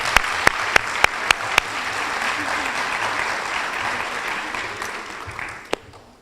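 An audience at a small business of the year awards ceremony bursts into sustained applause, dense and loud, fading toward the end. A series of sharp, regular clicks rings out at the start, and a voice can be heard briefly over the clapping.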